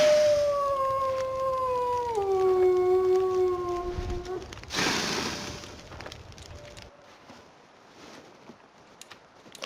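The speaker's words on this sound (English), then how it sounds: "Not sure where that wolf is, but he sounds very close." A wolf in The Long Dark gives one long, clear howl that slides downward in pitch and sounds close, followed by a burst of wind-like noise and then quieter ambient rustling.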